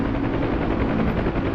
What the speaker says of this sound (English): You can fly as low as you want to in a helicopter.